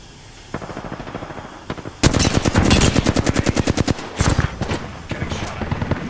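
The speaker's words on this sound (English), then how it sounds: "Getting shot at" Video game gunfire, loud rapid bursts of automatic shots in tight repeating volleys, with shorter bursts and single shots around them.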